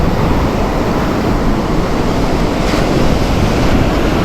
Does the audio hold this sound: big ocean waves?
yes